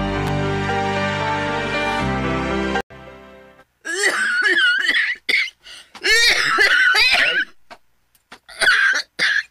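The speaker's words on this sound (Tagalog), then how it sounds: "Mag-usa naman ang ubo ni mo, eh." A sustained musical tone ends abruptly, then a series of harsh, loud human coughs comes close up in several bursts separated by short silences.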